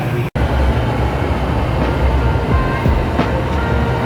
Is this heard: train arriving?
yes